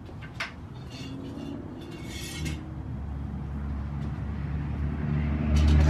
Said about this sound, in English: the traffic noise is gonna be bad